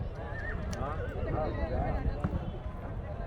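A horse whinnies amid a busy outdoor crowd at the Pushkar fair, with hooves clopping and voices chattering throughout.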